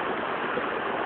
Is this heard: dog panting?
no